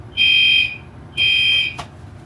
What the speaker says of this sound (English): Panel sounder silenced. What if I reset the alarm? Resound.